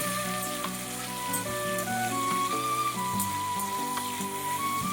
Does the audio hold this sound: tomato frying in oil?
yes